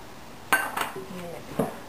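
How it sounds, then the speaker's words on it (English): Ranch pasta salad is tossed in a bowl, giving a few clinking knocks of a utensil against the dish, with a voice speaking briefly between the hits. "And mix that all together."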